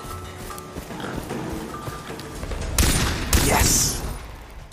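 Gunfire from a weapon shot from the hip in Far Cry 3 bursts out as two loud blasts close together over game sounds, with someone talking around them.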